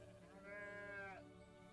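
A goat in the video game The Stillness of the Wind lets out a single wavering bleat, soft and fairly close, over a quiet background hum.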